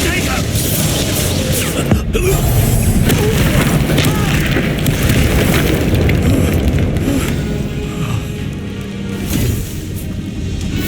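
Explosive spell blasts from Bombarda and Confringo in Hogwarts Legacy boom again and again through a dense, loud battle mix, with heavy bursts layered over constant combat noise and voices.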